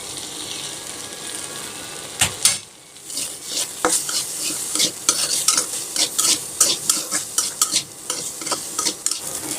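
An egg and flour batter is stirred and fried in a pan, with a steady sizzle under repeated scraping and clinking strokes of a utensil against the pan.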